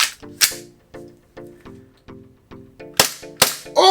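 An airsoft gun fitted with an Acetech Lighter BT tracer unit fires a steady series of sharp, close single shots about half a second apart, ending with a few quicker louder pops.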